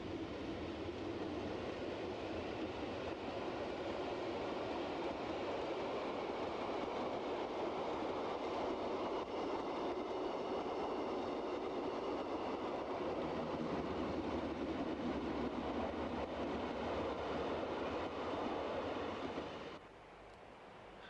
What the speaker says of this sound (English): Number 704 is a GE 66 type locomotive built for the RHB in 1965